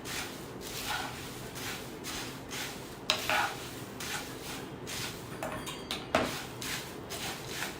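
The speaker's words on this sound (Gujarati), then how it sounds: "હવે એની અંદર આપણે 1 બાઉલ સેવ ઉમેરી લઈશું. એની સાથે તીખી મમરી છે એ લઈશું અને મિક્સ કરી લઈશું" Sev and spicy puffed rice being tossed together in a bowl give a steady dry rustling and scraping, with a few light clinks and knocks. No one speaks.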